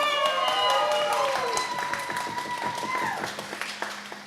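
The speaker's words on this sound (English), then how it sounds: "Clap and cheer and hoot and holler." An audience claps and cheers for a contestant at a wearable-arts mayor's hat show, with scattered clapping running under overlapping voices and whoops, fairly close.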